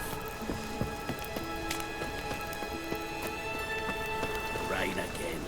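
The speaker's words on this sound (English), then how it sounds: "Rain again." Steady rain falls in The Witcher game world, a dense continuous patter with faint hoof-like clops and game music tones layered over it, while someone speaks briefly.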